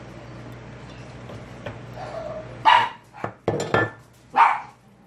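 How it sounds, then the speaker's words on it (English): Dogs bark in a home kitchen during cooking: several sharp, fairly close bursts over a low steady background hum, with a louder final bark. "Alert dogs, alert dogs."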